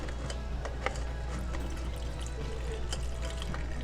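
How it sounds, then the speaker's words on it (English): Homemade black walnut hair dye liquid is poured through a sieve and strainer, giving a soft, steady trickle and splatter close by over a low background hum. "we're going to run this through a sieve, pass it through a strainer and a coffee filter."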